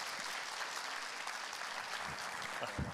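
Conference audience applauding to welcome Professor Tevfik Özlü to the stage: continuous, moderately faint clapping from a hall crowd, with a few low thumps near the end.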